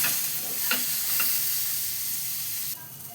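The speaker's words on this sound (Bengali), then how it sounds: "এবার এতে সামান্য হলুদ দিয়ে দিচ্ছি, দিয়ে এবার এটাকে হালকা ভেজে নেব" Gourd pieces with a little turmeric fry lightly in a pan, giving a soft steady sizzle with a few stirring scrapes, fairly quiet and close, no talking.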